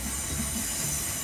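A train screeches as it passes along a suburban railway line near homes, a dense, continuous roar with a high metallic squeal of wheels and no voices.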